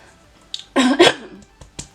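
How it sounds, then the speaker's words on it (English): A single harsh, phlegmy cough from hay fever, close and fairly loud, with a throaty rasp, followed by a couple of quiet breathy clicks. "I've got a hay fever and it just makes me cough and a bit phlegmy."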